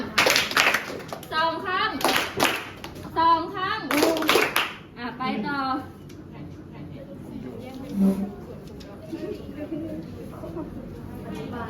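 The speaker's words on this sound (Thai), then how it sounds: "เอาเด็กๆปรบมือสองครั้ง" Children in a classroom clap their hands in two quick bursts mixed with their voices, followed by quieter room noise and a teacher talking.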